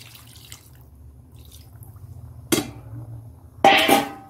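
Water is splashed into a cooking pot of small-fish curry in two short bursts, the second louder, over a faint low kitchen hum.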